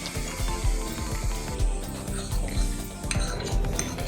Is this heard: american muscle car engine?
no